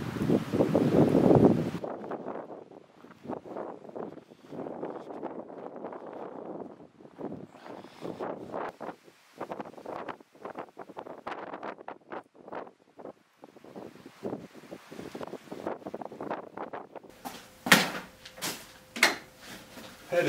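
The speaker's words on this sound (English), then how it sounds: "That wind is whipping." Strong winter wind buffeting a microphone outdoors at a Minnesota farmhouse on a bitterly cold morning, heard as steady rumbling gusts with brief sharp knocks near the end.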